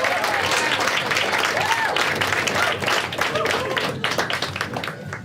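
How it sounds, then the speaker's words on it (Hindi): Audience at a live stand-up comedy show clapping and cheering together, a dense, steady burst of applause that thins slightly toward the end, with voices mixed in. "एक बार खुद के लिए ताली बजा सब लोग।"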